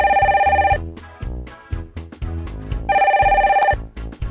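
A telephone bell rings in a 2D animated series, two loud trilling bursts separated by background music and sound effects.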